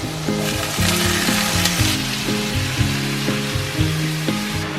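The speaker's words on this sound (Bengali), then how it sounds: "এরপরে কিন্তু ভালো করে মশলাটাকে কষিয়ে নিতে হবে।" A spice paste with ginger fries in a pan, giving a steady, close sizzle throughout over a low, stepping tonal background.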